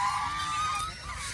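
Geese on a farm give a short burst of nasal honking, loud and close, over a faint outdoor background.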